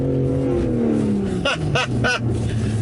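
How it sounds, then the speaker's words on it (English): A BMW G80 M3 Competition xDrive is held at full throttle with traction control stopping wheelspin; the engine drones steadily and close, with a few short raspy bursts partway through. "I'm just going to go full throttle straight away, see what happens."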